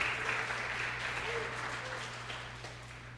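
A church congregation claps together during an evening service, a dense, steady wash of applause that fades slightly over a few seconds, with faint voices underneath.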